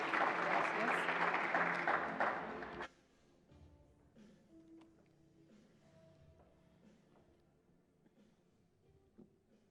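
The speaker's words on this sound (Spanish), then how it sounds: "Recibámosla con un fuerte aplauso, por favor" Conference audience applause at a Colombian infrastructure congress fills the opening seconds, dense and steady, then cuts off abruptly and leaves a quiet room with faint shuffling.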